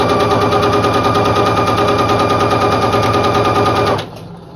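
Sewing machine running a quarter-inch seam on a quilt block, a loud, steady rapid stitching rattle that continues for about four seconds, then stops abruptly and leaves quiet room noise.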